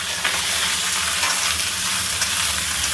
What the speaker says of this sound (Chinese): 使劲的给它煸炒一下啊。